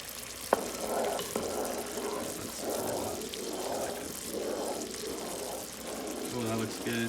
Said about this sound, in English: See, sugar's definitely boiling.